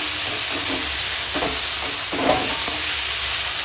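Spiced eggplant and fish frying in a pan, a steady loud sizzle with occasional stirring scrapes throughout.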